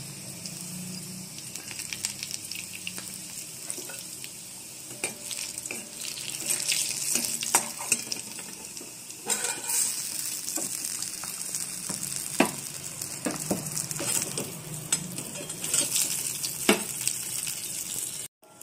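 Chopped green chillies and garlic sizzle in hot oil as a tempering for a thin raw-mango and okra jhol. The frying crackle is close and continuous, with spoon stirring and scraping clatter throughout and no talk.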